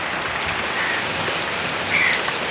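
Heavy monsoon rain pours steadily in Andhra Pradesh, a dense continuous hiss of drops hitting surfaces with no pauses and a brief surge in intensity near the end.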